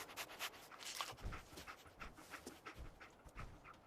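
Dogmeat, the dog companion in Fallout 4, panting steadily and rhythmically close up, soft quick breaths repeating evenly with nothing else over them.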